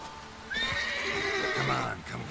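A horse whinnies loudly in The Witcher 3, a long neigh of about a second and a half, with a voice talking over it in the game.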